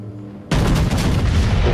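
Naval gunfire in World of Warships: after half a second of low hum, a loud broadband boom erupts and rumbles on without a break to the end, with no voices.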